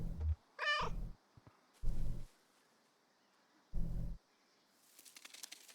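A cat meows in the Kentucky Route Zero video game, a single high, bright call near the start, followed by low thumping sounds and a faint rustle at the end, all with no talking.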